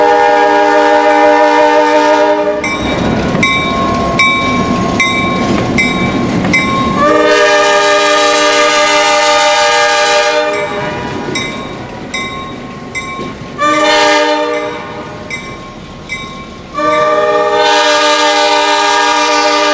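A pair of GP9 diesel locomotives on the Adrian and Blissfield line sound their horns loud and close in repeated long chords, the engines rumbling and wheels clattering in between as they pass.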